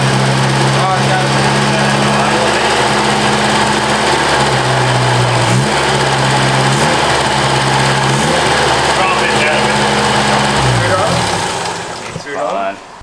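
A 1976 Leyland Mini Moke engine runs steadily and loudly at a rough, buzzing idle for about eleven seconds, then cuts out near the end, with people talking over it.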